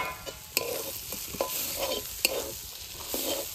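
Banana blossom and potatoes fry in a pan, a steady close sizzle broken by repeated scraping stirs and soft knocks of the spatula, with no voices.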